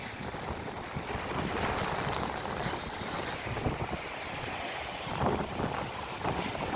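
Waves lapping at Devka beach with its soft black sand: a constant hiss of surf, rising briefly in a couple of surges, under strong wind rumbling against the microphone.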